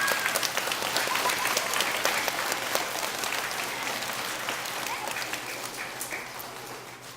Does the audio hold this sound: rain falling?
no